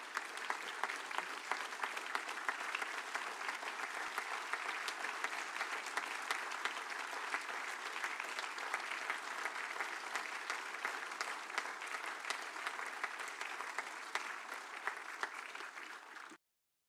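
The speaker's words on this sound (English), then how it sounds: "Let's give them another big round of applause, everyone." Sustained applause from those gathered at a city council meeting, steady dense clapping at a moderate distance for about sixteen seconds before stopping abruptly.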